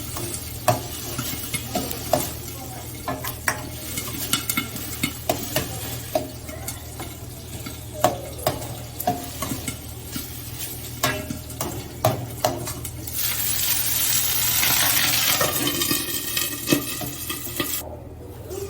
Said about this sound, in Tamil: நம்ம தேவையான அளவு தண்ணி ஊற்றி வெண்டைக்காவை ஒரு 5 மினிட்ஸ் குக் பண்ணிக்கலாம்